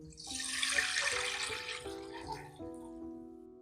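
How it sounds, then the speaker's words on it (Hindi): Four cups of water poured into a kadai while cooking chicken yakhni, a soft continuous splashing pour lasting a few seconds, faint, with a background tone running beneath. "सेम कढ़ाई में डालेंगे 4 कप पानी"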